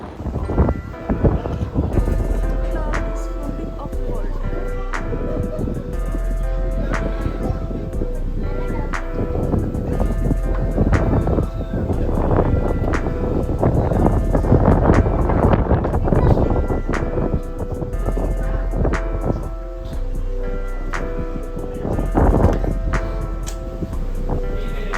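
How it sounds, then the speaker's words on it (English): Constant wind roar and buffeting against the microphone while riding a motorbike through cool breezy hill country on the way to Yercaud, loud and continuous with engine and road rumble underneath. "There was cold breeze all around, and we enjoyed this 10-minute ride literally very much."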